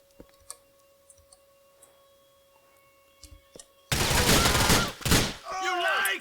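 In Grand Theft Auto IV, after a few quiet clicks, a loud burst of rapid gunfire erupts and continues in heavy volleys, with a voice briefly audible amid the shooting.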